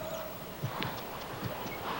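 Hooves of an Arabian stallion moving loose without bridle or saddle, a few soft irregular clip-clop steps at moderate distance over a noisy outdoor background.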